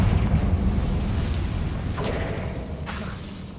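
A Confringo fire spell in Hogwarts Legacy goes off as a loud, close burst, with a second fiery blast following and then fading into a rumbling tail.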